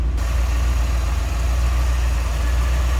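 A 1990 Chevrolet Corvette convertible's 5.7 liter tuned port injected V8 idles steadily, a heavy low rumble throbbing evenly and close throughout, with no voices.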